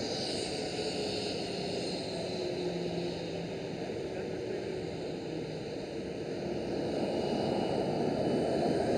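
A KLM Boeing 737 airliner passing at an Amsterdam Schiphol spotting location, a steady, fairly faint broadband jet roar heard from a distance for several seconds, with no voices.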